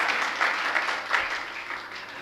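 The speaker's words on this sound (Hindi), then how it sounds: "अरे ताली बजाओ अरविंद के लिए" Audience at a religious sermon clapping, a dense sustained round of applause from a crowd, fairly loud and even for a couple of seconds.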